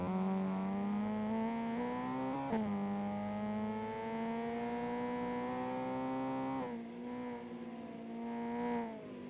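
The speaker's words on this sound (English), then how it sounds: "There's some car sound." Car engine in a touge mountain-pass racing video game, a steady droning whine that dips and climbs through gear changes, moderately loud with no talking.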